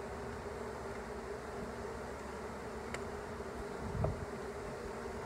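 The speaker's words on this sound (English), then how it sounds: "we've got a full colony of bees, probably 6 or 7 frames worth of bees in here" A full colony of honeybees trapped out of a structure hums in a continuous, dense buzz, steady and fairly faint throughout, with a couple of brief knocks.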